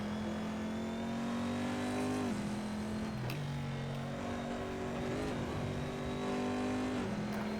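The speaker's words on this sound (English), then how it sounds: "You're locking your left front, braking for the Andretti hairpin." A C7.R race car in a racing game brakes hard for the Laguna Seca hairpin, its steady engine drone dropping in pitch with downshifts while the locking front tyre chatters, loud and close throughout.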